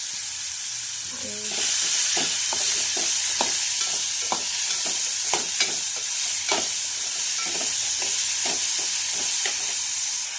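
Pineapple cooking in ghee in a pan for a sweet semolina dish, a steady bright sizzle with repeated scraping and stirring strokes of a spoon against the pan, close and fairly loud.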